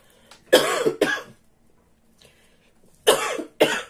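Four sharp coughs in two pairs, close to the mic, separated by a quiet pause.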